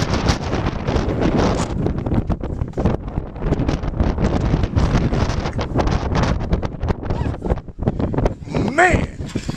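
Strong wind buffets the microphone at the Grand Canyon rim, a continuous loud roaring rush with gusts, while people talk over it throughout.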